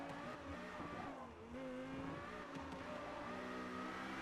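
Lexus LFA engine in Forza Motorsport, a steady high-pitched race-car whine with shifting tones holding throughout, fairly faint and with no talk.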